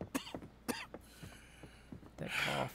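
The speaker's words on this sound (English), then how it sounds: "That cough." A man coughs twice in Red Dead Redemption 2, with sharp hacking bursts followed by throat clearing and a breathy, raspy exhale, close and fairly quiet.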